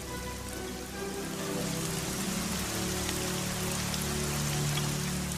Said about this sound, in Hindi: बारिश होते कई दिन हो गए। नूह देख रहा था कि कब बारिश बंद होगी, परंतु बारिश होती रही।